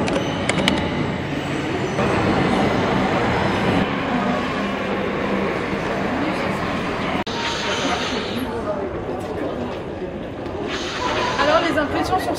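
An Amsterdam metro train rumbles steadily along with a continuous rolling roar and occasional squeals, while passengers talk nearby throughout the ride.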